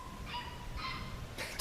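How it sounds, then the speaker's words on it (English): Beagle puppies yap in a few short, high bursts nearby, separated by pauses, the last burst the sharpest and loudest. "our neighbor had some beagle puppies, and now they're yapping"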